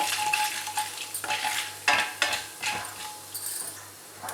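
Urad dal and chana dal frying in hot oil in a pan for mango rice, a steady close sizzle with scraping stirs and a few metallic spoon knocks throughout.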